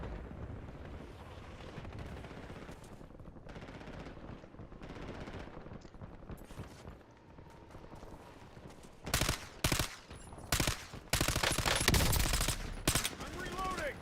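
Rapid automatic gunfire and bursts of shots in the video game Call of Duty Warzone, quieter scattered shots early then loud close clustered volleys toward the end, mixed with game voice lines and a player talking.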